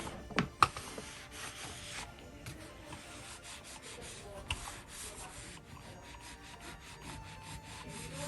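A clothes iron slides back and forth over fabric on low heat, giving a steady soft rubbing and scraping with a few sharper knocks near the start, all close by.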